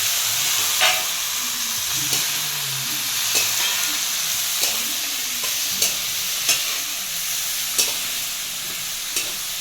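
Masala and washed pumpkin sautéing in a pan, a steady close sizzle broken by periodic spoon scrapes and stirring clatters every second or so, with no voices.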